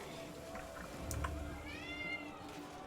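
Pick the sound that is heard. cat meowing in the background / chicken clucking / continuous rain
cat meowing in the background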